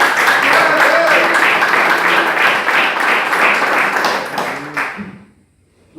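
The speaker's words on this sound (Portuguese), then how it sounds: "E desse uma salva de palmas." Church congregation gives a loud, dense round of applause that holds steady for about five seconds, then fades out quickly into near silence.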